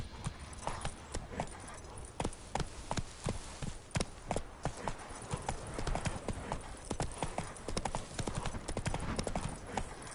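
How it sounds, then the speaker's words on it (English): A horse's hooves clip-clop at a steady trot in The Witcher 3 video game, sharp rhythmic hoofbeats close and continuous with faint background ambience. "Whoa there, Roach."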